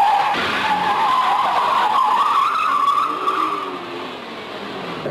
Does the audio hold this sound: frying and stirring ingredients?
no